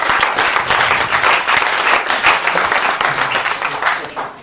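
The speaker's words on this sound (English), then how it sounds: "Give Chris a round of applause." A crowd at a stage hypnosis event breaks into loud, dense applause, continuous clapping close by for about four seconds with no talk over it.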